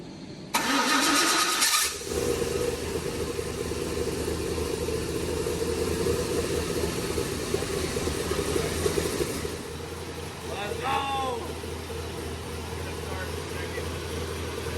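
A 1,000+ horsepower Ford Mustang drag car engine starts with a sharp burst, then settles into a loud, steady, rumbling run, close by, with brief voices near the end.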